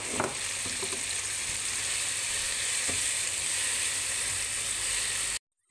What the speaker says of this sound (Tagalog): Gisa natin ng ilang minuto.